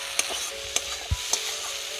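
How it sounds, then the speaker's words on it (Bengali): Ginger, onion, garlic and tomato paste sizzle in a pan, a steady soft frying hiss broken by a few sharp stirring clinks and one low thud, close and alone with no talk. "ভালো করে আদা পেঁয়াজ রসুন টমেটো সব ভেজে নিয়েছি"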